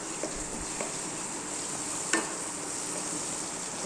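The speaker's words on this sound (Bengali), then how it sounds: "এবার সয়াবিনগুলো দিয়ে যেতে কিছুক্ষণ একটু নাড়াচাড়া করবো" Chopped soybeans stirred and fried in oil make a steady, soft sizzle close by, broken by a few light scraping taps of the utensil, including one sharper clink midway, with no voices.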